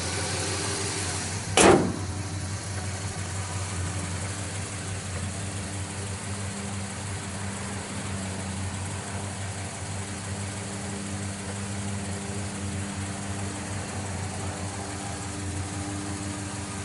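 A 1967 Chevrolet El Camino's engine idles steadily through dual exhausts, a low, even rumble held close and constant, with one brief sharp knock near the start.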